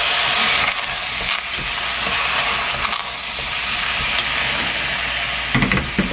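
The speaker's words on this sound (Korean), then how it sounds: "이제 이 네 가지를 한꺼번에 넣고 볶으면 돼요." Squid, radish, green onion and minced garlic are stir-fried in a pot without oil, giving a loud, continuous sizzle and hiss with scraping stirring strokes throughout.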